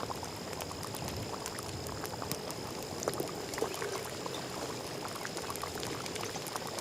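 Nannari syrup simmers in a pot while being stirred with a ladle, a steady soft bubbling and seething with faint scraping, close and quiet, with no talk.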